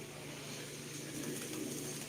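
Soft, low cooing from a pigeon, faint and muffled over a steady background hum.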